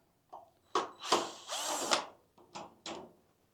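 A power drill loosens aluminum screws on a Weber EP-425 barbecue grill in short, close whirring bursts, with one longer run in the middle, no one speaking.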